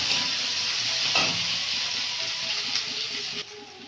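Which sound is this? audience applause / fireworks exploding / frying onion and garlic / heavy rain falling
frying onion and garlic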